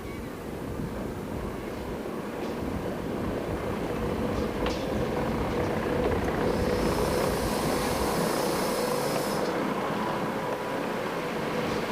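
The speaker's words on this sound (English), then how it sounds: "we stopped to let a downhill train pass on the siding" A steady rumbling cog railway train drones past up close on a mountain siding, with a high metallic whine rising midway, then fading.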